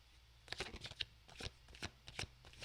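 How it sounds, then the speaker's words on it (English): Tarot cards shuffle in quick soft riffles and slaps, a series of close, faint, crisp bursts. "let me just get a card or two on either side to see where we're going"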